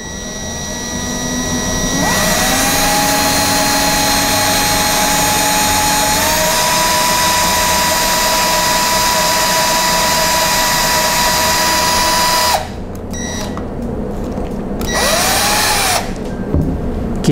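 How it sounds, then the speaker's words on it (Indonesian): A cordless drill bores into a workpiece, a loud, steady high whine held for about ten seconds, then stopping and restarting in short bursts near the end. "Habis itu kita coba bor kembali."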